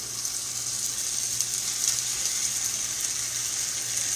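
Hoe cake batter sizzles steadily in a hot pan on turned-down heat, a constant bright frying hiss with no talk over it.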